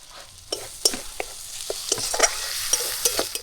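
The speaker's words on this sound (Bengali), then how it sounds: "পেঁয়াজটা ভাজা হয়ে গেছে" Onion frying in a pan for a prawn and yogurt curry, a steady sizzle punctuated by sharp clicks and scrapes of a spatula against the pan, close-up with no speech.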